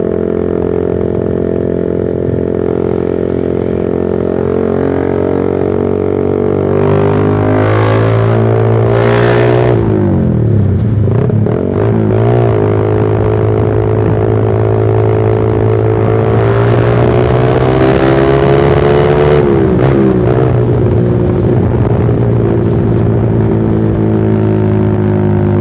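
A Suzuki Satria FU Fi motorcycle fitted with a Pro Liner aftermarket exhaust rides on a congested main road, its loud, continuous exhaust drone swelling and dipping with throttle changes and passing traffic, with no talking.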